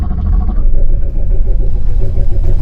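Car rolling along a highway whose surface is rutted into washboard-like ridges by big rigs running chains, producing a loud, continuous low rumble of engine and tyre drone with a rough, rippling texture throughout.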